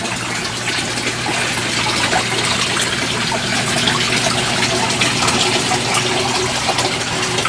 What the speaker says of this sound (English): I have to blow through this stuff a lot with a garden hose